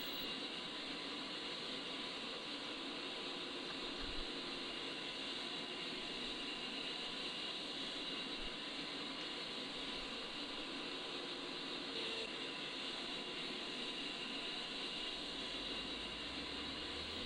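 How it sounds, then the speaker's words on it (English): A jet engine in Microsoft Flight Simulator spools up as a steady, fairly quiet turbine whine and hum, holding almost unchanged throughout with a faint rise in low rumble near the end. "As the engine spools up"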